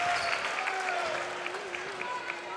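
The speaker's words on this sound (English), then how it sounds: "Giving this good crowd tonight. Lots to cheer about." Crowd at a Carroll vs Lewis-Clark State college basketball game breaking into applause and cheers, moderately distant, with a broadcast commentator talking over it.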